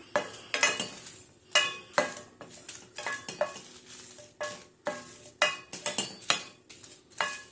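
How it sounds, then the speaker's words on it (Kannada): Chilies dry roasting in a pan for garam masala rattle and scrape in rhythmic bursts as a spatula stirs and tosses them against the metal, close and clear with pauses between strokes. "ಇವಾಗ ಮೆಣಸಿನ್ಕಾಯಿ ಸ್ವಲ್ಪ ರೋಸ್ಟ್ ಆಗಿದೆ"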